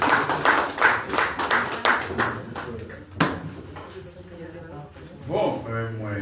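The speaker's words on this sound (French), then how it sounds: "Nous demandons un applaudissement pour vous là." Scattered clapping at a press conference for a masquerade event rings out loudly for about three seconds, then dies away as a voice continues talking.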